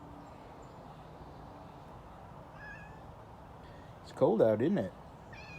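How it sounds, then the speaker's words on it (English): A stray cat over eight years old gives a single clear, wavering meow close by, after a soft comment from a person in a quiet outdoor setting. "You are in excellent condition for a stray cat that's over 8 years"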